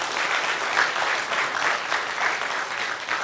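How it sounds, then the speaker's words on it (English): An audience claps for the day's speakers at a talk event, a sustained, moderately loud round of applause with no voices over it. "can I hear a round of applause for all the speakers which we had today"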